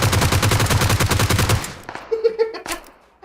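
Gunfire in PUBG Mobile: a loud, fast automatic burst of evenly spaced shots, then a few scattered, fainter pops and clicks as it dies away.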